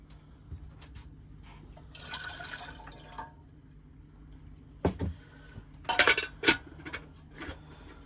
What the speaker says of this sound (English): I'll go and put one more cup of water in this